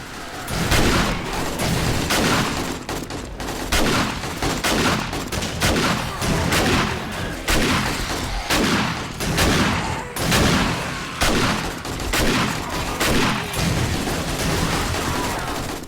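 Rapid, loud shotgun blasts from a 7 Days to Die game firefight, a dense burst of repeated booming shots in close succession with little pause between them.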